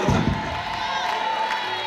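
A crowd cheers and acclaims at a church crusade in a congress hall, a loud, continuous wash of voices and whoops that holds steady throughout.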